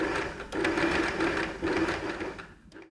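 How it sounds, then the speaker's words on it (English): Sewing machine stitching a bound buttonhole along the original stitch line, a steady close whirring run of needle strokes that pauses briefly midway and stops near the end. "So I'm going to start sewing again, following the original stitch line."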